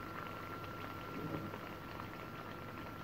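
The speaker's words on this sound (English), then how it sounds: "Our butter is now in the oil frying." Saltfish fritter batter sizzling in hot oil in a Jamaican home kitchen, a steady dense crackle and hiss that holds even throughout, close and without talk.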